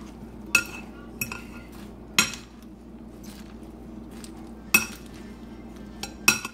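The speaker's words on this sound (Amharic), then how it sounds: "በደንብ አድርጌ አደባልቀዋለሁ።" Utensils stir and toss a salted Ethiopian salad in a bowl, giving five or six sharp metallic clinks spaced irregularly over a quiet background.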